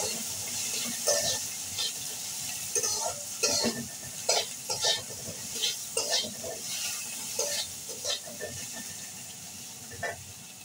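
Onion and potato frying in a pan for an egg curry, with repeated stirring scrapes and a steady sizzle, plus bursts of clatter and watery sounds nearby.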